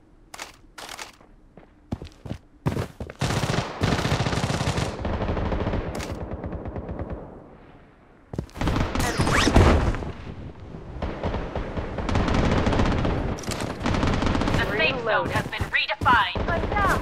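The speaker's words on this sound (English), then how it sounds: "Taking fire!" Battle royale video game gunfire: bursts of automatic fire and scattered single shots, loud and close, rattle through a tense firefight, with brief quiet gaps and footsteps between volleys.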